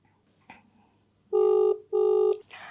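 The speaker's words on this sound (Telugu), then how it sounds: "సో సక్కుకు ఫోన్ చేస్తాను యాక్చువల్గా నేను." Outgoing phone call ringback tone: a faint click, then two long, loud electronic ring bursts separated by a short gap, with the start of a third tone at the end.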